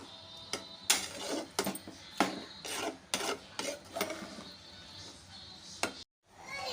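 Spinach side dish mixed in a pan over a medium flame: a series of distinct, close scraping and rasping strokes of a utensil against the pan, irregular in rhythm, with brief quiet gaps between strokes.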